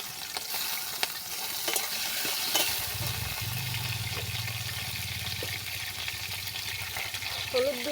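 Prawns frying in oil in a wok give a continuous close sizzle, with scraping stirs and a few sharp knocks early, then a lower bubbling roar taking over midway.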